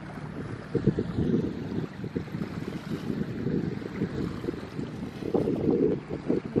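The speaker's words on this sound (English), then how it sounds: "It's a little windy." Wind gusting at a shore with many boats nearby, buffeting the microphone in steady low rumbling blasts with surf-like swells, loud and continuous throughout, no talking.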